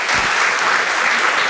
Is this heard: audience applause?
yes